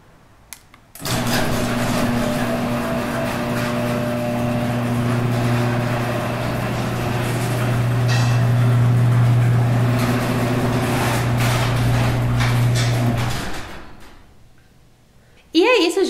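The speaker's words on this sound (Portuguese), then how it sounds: "E a porta abre para cima e eu vou mostrar agora para vocês ela fechando" An upward-opening garage door in an American-style garage closes with a continuous motorized hum and rattle lasting about twelve seconds, then ends with a soft thud and quiet.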